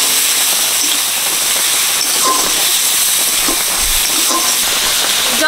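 Water poured into sizzling spiced bhetki fish curry in a pan, a loud continuous hiss and steamy sizzle close by with crackling bubbles.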